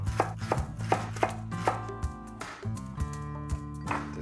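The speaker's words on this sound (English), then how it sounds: "I'm gonna slice these leeks into rounds." A knife chops leeks into rounds on a cutting board, a run of sharp, regular thunks at a steady pace, close and clear, with a pause midway before the rhythmic chopping resumes.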